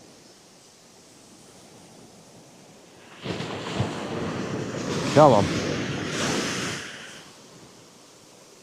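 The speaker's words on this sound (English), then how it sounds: "That tide is still hammering in." Incoming tide surging up a rough-ground beach in Suffolk on an early UK morning, a broad wash of surf swelling in for several seconds and then easing off, with wind noise and a brief spoken remark.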